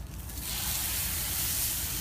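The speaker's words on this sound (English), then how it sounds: "I'm throwing bacon juice everywhere. It's going to be sizzling here in a minute." A steady, loud hiss of bacon sizzling on a grill, continuous crackling noise that swells quickly and holds.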